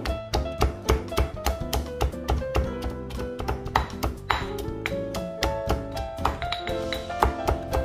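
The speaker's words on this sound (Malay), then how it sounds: "tumbuk lagi bagi lumat." Garlic and lemongrass pounded in a mortar with a pestle: a quick, steady series of sharp knocks and ringing taps close up, with no talking.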